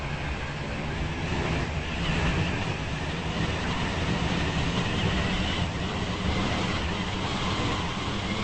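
Stepford Express passenger train running between Edgemead and West Wyvern, heard from on board as a steady, continuous rumble and rail roar with faint clickety-clack, with no talking.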